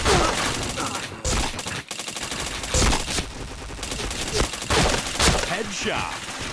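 Dense, loud bursts of automatic gunfire and rapid shots fill a first-person shooter game match, continuous and overlapping with impacts, without pause.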